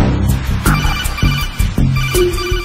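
A phone rings repeatedly in the stealth video game Metal Gear Solid 2: Sons of Liberty, loud electronic ringtone bursts sounding over game ambience and music.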